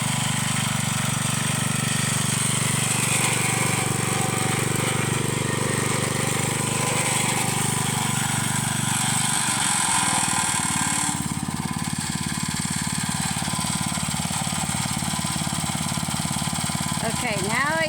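A Snapper walking tractor/tiller engine runs steadily and loudly throughout, a continuous mid-pitched drone with a slight shift partway through, under some talk.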